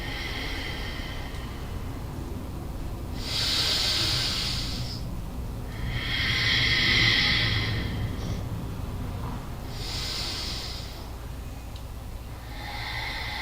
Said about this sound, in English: A few more like this, inhaling through the nose.